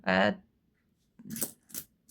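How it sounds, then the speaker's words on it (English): Dice are rolled onto a surface during a cash-stuffing savings challenge, giving two short, close clattering bursts that follow a brief vocal sound. "And I will roll my dice and do whatever it tells me."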